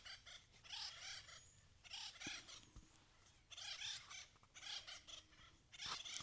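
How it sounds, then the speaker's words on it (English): Birds calling and squabbling in roadside trees along a walking route between Budapest and Ljubljana, with bursts of harsh, rapid squawks repeating in clusters at middle distance over faint outdoor background noise. "There's a bird in there and bird in that tree, and I think they're fighting."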